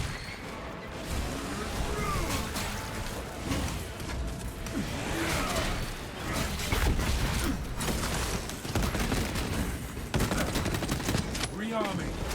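Sustained gunfire and blasts from the video game Space Marine 2 with a frag grenade thrown in, a dense, loud barrage of shots, crashes and whooshes running continuously with no pauses.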